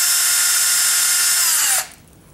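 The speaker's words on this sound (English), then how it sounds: "Now I've got my wheel cylinder hone connected to my drill. You're going to want to use a variable speed drill. Got this one set on low RPM." A variable speed drill set to low RPM spins a wheel cylinder hone for the rear drum brakes of a 1995 Pontiac Grand Am. It gives a steady, loud, close whine that winds down and stops under two seconds in.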